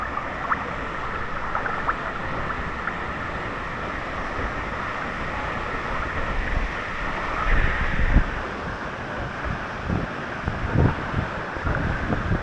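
Wind blowing near Wangi Falls in Litchfield National Park, a steady rushing roar buffeting the microphone with gusts swelling louder midway, no talk.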